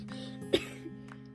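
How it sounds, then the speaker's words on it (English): A single sharp cough sounds indoors in a home kitchen, brief and near, followed by a softer catch in the throat against a quiet background. "Stop coughing."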